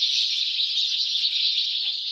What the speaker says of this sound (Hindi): इस तरीके से चिड़ियाँ चिल्लाती थीं।